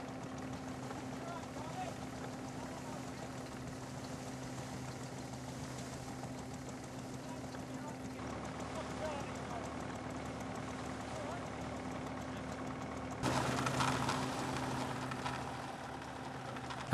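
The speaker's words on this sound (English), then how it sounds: "the International Super Standard tractor provides the power for the first" Vintage International Super Standard tractor powering a threshing drum at a harvest, a steady low droning hum running throughout, fairly distant, with a brief louder stretch near the end.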